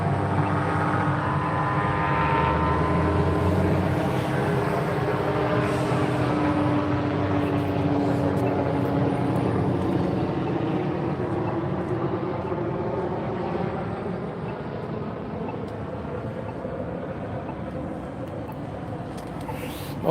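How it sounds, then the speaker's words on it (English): A helicopter flies overhead, a loud steady rumbling drone that holds for most of the time and slowly fades as it moves away. "Yeah, that's a helicopter."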